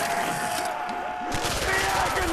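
MPL submachine gun fire in Call of Duty custom zombies on the Raze map, a dense, continuous burst of rapid shots mixed with game effects at steady loudness.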